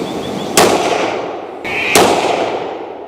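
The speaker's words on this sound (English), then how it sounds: "So these are the first rounds out of this new barrel." Two sharp rifle shots, the first rounds through a new 26-inch barrel, crack out about a second and a half apart, each loud and close with a long decaying tail outdoors.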